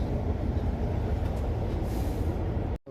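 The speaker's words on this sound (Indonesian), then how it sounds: "Kereta dah mulai jalan" Inside a train pulling out of Bratislava station bound for Kosice, a steady low rumble and rolling hum fill the carriage, with a brief dropout near the end and no voices.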